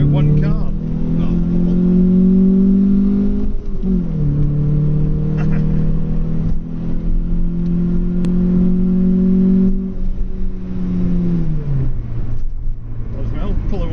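A car engine, from a 1.6 L car, revs and pulls, its loud drone climbing steadily in pitch, dropping at gear changes and climbing again, heard from inside the cabin while people talk over it.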